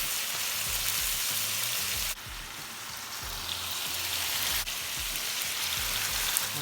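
Onions, garlic and ginger fry in a hot pan beside browned lamb for keema, giving a steady dense sizzle and crackle like rain, close and continuous without any talk.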